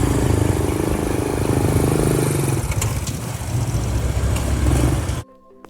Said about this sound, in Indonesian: terdengar suara motor berhenti di depan rumah